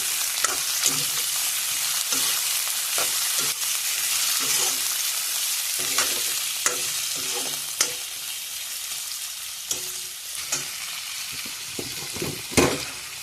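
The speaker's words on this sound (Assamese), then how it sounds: "আলুখিনি অলপ সময় ভাজি থাকিব" Small diced potatoes fry in a pan alongside onions, giving a steady close sizzle with intermittent spatula scrapes and knocks spread through, one sharper clack near the end.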